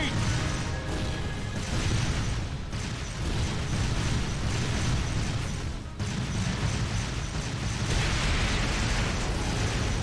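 An artillery barrage in the video game Trails of Cold Steel II pounds on continuously, dense, loud explosions and crashing layered over a rumbling battle din for about ten seconds.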